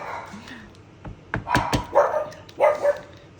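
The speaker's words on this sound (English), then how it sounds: "They've been very, very barky today." Several dogs barking indoors, a few sharp barks and yips in quick bursts that get louder toward the end, with a faint voice at the start.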